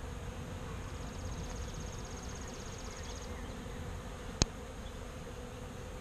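Honeybees hum softly inside a cramped split-hive nuc, a steady low drone that runs the whole time with a faint high whine early on and one sharp brief click near the end; no voices.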